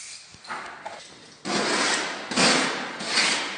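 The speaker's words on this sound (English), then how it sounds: "she's going right up to the painting and spray painting it" Bursts of hissing spray from a spray paint can aimed at a painting in a museum, three loud sustained blasts after quieter rustling.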